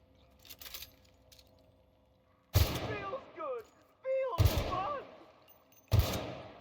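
Gunfire from the video game The Outer Worlds: Spacer's Choice Edition rings out in three separate sharp bursts, each with a ringing, clattering tail and metallic casing sounds, with quieter game noise between.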